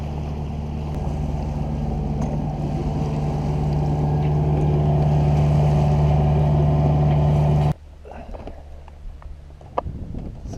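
A steady, loud engine drone from a sailboat motoring around Stocking Island in the Exumas toward an anchorage, which cuts off abruptly near the end and leaves quieter water and wind noise.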